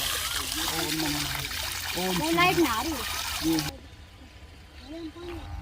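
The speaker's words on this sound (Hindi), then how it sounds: "पानी आ रहा है यहाँ पे, जिसमें सत्यनारायण भाई अभी नहाए हैं।" Water from a motor-driven pipe trickles and splashes steadily into a tank while people talk over it in Hindi; the background noise drops off partway through.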